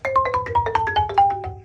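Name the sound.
percussion struck with a hard mallet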